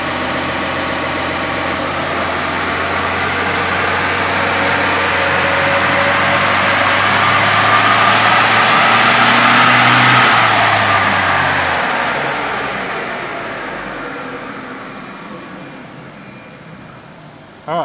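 A diesel engine on a dyno is held at full throttle, its roar rising steadily in pitch and loudness for about ten seconds before winding down and fading, loud and close throughout with no talking.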